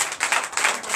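A church congregation in Comè, Benin claps in acclamation during a Sunday service, a dense, continuous patter of many hands filling the room at fairly loud volume with no talking over it.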